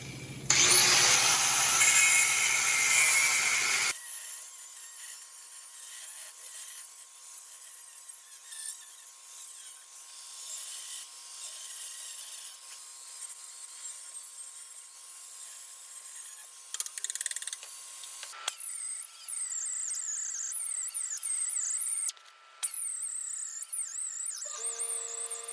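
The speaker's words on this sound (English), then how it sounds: "we'll just use a cut-off wheel and we'll cut it" A cut-off wheel bites into a vehicle frame in a loud, harsh grinding burst lasting a few seconds, then cuts out, leaving long quiet stretches with faint tones and light rattles.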